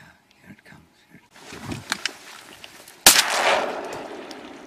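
A single loud shotgun blast rings out during a duck hunt, sharp and close, with a lingering decay after it; hushed voices murmur in the quiet moments beforehand.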